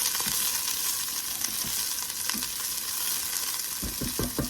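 Onion sizzles and crackles steadily on a hot griddle, with a few stirring scrapes and pops toward the end, close and alone.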